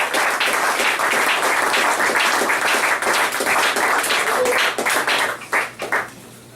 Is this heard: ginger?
no